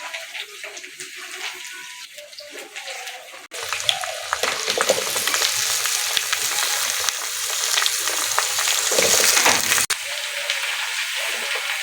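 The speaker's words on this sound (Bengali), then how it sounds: "কুমড়ো দিয়ে দিলাম, ভালো করে লাল লাল করে ভেজে নেব।" Pumpkin pieces for kumror chokka, added to a pan of frying potatoes and spiced oil, hiss steadily; the sizzle swells sharply as they hit the oil and keeps crackling under occasional stirring.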